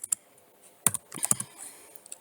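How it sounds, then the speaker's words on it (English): Several keystrokes click on a computer keyboard, a couple of isolated taps and then a quick cluster of presses, near and fairly quiet. "So I would type in GCSE"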